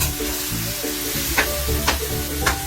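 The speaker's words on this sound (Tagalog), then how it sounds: "Para mawala yung langsa, kailangan mo siyang gisahin with garlic" Fish sizzles and fries with plenty of garlic in a hot pan, a steady crackling hiss with a few stirring scrapes, close and fairly loud with no talking.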